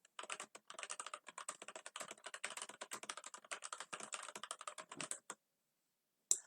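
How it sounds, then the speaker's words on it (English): Rapid, fairly loud typing on a computer keyboard close by, a dense run of keystrokes lasting about five seconds, then a pause and one final key press. "You'll click reply, and you will type up your comments"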